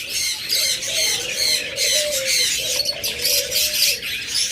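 Lutero Red Eye pigeons in a farm cage make steady, close cooing, mixed with busy chirps and squawks from other caged birds.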